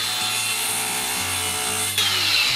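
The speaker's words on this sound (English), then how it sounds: "Got my multi-tool, going to cut this big beam with it." An oscillating multi-tool cuts into a big wooden beam during an old cottage renovation, making a steady, close buzzing rasp that grows louder and harsher near the end.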